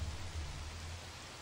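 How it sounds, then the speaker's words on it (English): Steady rain effect in the video game The Mark of Kri, a constant hiss of falling rain with a low rumbling undertone, no talk. "I think the rain effect is kind of messing with things."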